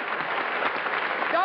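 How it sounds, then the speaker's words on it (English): Audience applause for a television show guest, a steady, dense hiss of clapping from a crowd, moderately loud and unbroken. "How about a real nice round of applause for Laverne Pearson?"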